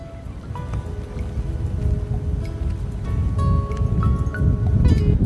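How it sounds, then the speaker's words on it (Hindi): The calm Narmada river at Vyas Bet in Barkal, Gujarat, gurgles and laps steadily nearby. The soft, continuous water burble has faint scattered tonal chirps above it and no talk. "जब नदी शांत होती है तो खलखल करके आवाज़ आती है।"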